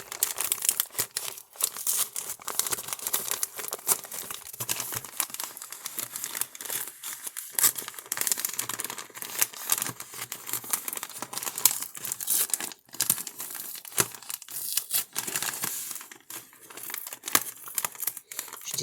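Paper wrapping on an advent calendar gift crinkles and tears steadily as it is opened, a dense close rustle that runs without a break, with no talking.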